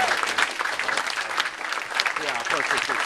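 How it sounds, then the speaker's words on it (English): Audience applause at a bookstore book signing for a fantasy novel: steady, full clapping from a crowd, with a voice speaking underneath. "I want to give a round of applause to Barnes & Noble."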